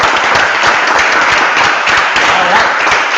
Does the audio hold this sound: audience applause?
yes